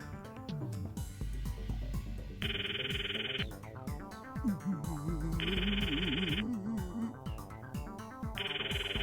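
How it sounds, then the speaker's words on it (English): A phone rings in the visual novel Steins;Gate, repeating electronic ringtone bursts at a steady rhythm over background music, loud and clear. "The phone rings."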